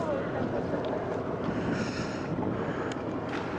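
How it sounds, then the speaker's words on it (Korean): Strong wind buffets an open microphone on an octopus fishing boat off Yeosu on Korea's south coast, a steady loud roar with the faint wash of water throughout and no voices. "바람 엄청 부네요. 지금 서해 바람을 피해서 왔는데 여기도 만만치 않네"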